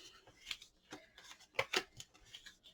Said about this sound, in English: And I'm just folding.